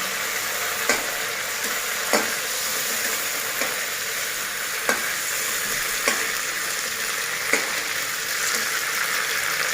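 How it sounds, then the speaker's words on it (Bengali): Cauliflower florets sizzle loudly in hot oil left over from frying fish, a steady crackling hiss punctuated by regular soft taps of a stirring spatula. "কপিগুলো দিয়ে ভেজে নিচ্ছি।"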